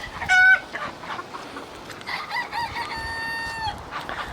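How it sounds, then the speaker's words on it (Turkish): Chickens and a rooster in a backyard coop, stirred up by a playful dog, cluck excitedly and crow close by, with overlapping calls and one loud squawk near the start. "tavuklarla oynuyor sürüyü bayağı bir kışkırttı"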